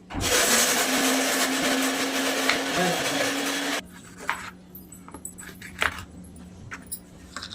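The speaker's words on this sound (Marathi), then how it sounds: "अद्रक, लसूण, खोबरं आणि हिरवी मिरची वाटून घेणार आहे नाही का. पाणी न टाकताच वाटून घ्यायचं." Mixer grinder loudly blending ginger, garlic, coconut, green chili and salt without water, a steady high whir lasting about four seconds before cutting off, followed by scattered clinks and light handling noises.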